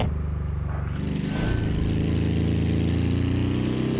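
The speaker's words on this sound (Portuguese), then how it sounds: "É legal de correr com o Fusca porque o motor dele faz uns barulhos muito bacana" A Volkswagen Beetle (Fusca) engine in BeamNG.Drive hums steadily with a low, throbbing idle-like drone, rising slightly in intensity partway through, with a brief whooshing swell in the middle.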